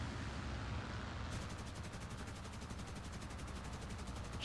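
Machine guns on a Hampden TB Mk1 bomber in the War Thunder air combat game chatter in a rapid, evenly pulsed burst lasting several seconds, loud over a constant engine roar.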